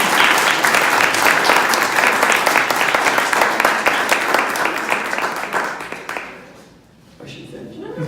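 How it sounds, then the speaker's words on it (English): Sustained applause from an audience honoring students at an Italian teachers association event, loud and dense for about six seconds before fading, with voices murmuring as it dies down. "Could we have another applause for these great students?"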